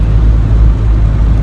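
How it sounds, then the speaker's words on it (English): A loud pickup truck engine running steadily at close range, a deep constant rumble with a low throbbing idle and no change in pitch. "sorry, my truck is super loud"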